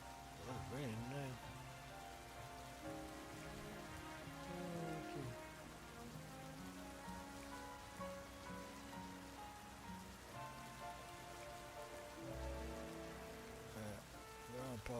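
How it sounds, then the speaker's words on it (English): Steady rain falls in the Pokemon Legends ZA video game, a constant soft patter under game music and someone talking over it. "Oh, it's raining now."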